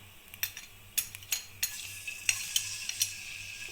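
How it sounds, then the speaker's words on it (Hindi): Chopped garlic sizzling quietly in about half a cup of hot oil in a pan, a soft steady hiss with light scraping taps of a spoon stirring. "चॉप किया हुआ लहसुन इसमें शामिल करेंगे।"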